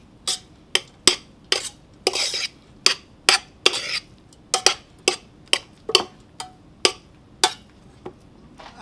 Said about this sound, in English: And now I'm gonna mix everything together.